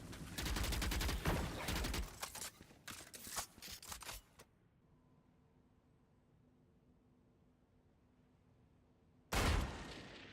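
A dense burst of gunfire in the video game Valorant, loud close shots over several seconds, then near silence before another sharp shot near the end; a headshot lands in a match.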